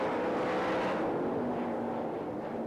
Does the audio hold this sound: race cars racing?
yes